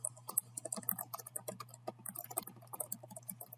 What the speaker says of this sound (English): I'm going to type my multiple choice